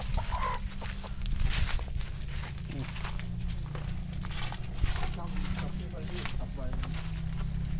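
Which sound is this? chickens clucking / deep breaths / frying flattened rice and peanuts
chickens clucking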